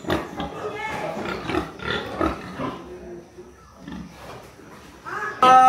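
Pigs squeal and grunt on a farm in Batangas province before slaughter for a birthday feast. Shrill cries rise and fall in bursts while people talk nearby, ending in a sharp loud squeal.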